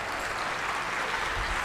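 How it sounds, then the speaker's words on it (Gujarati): A seated audience at a Gujarati folk-literature talk claps, producing dense, even applause throughout, with no voices. "તાળીઓ પાડજો, તાળીઓ જ ઘેર લઈ જવાની છે"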